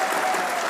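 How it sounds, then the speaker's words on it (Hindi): Brief burst of studio audience clapping, dense and steady at a constant level. "तालियां बजाइए"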